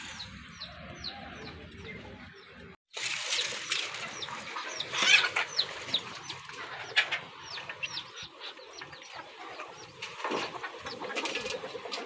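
Desi chickens, small chicks and Muscovy ducks feeding on a Punjab poultry farm, with steady clucking and chirping cheeps throughout and scattered louder calls, under a continuous outdoor background.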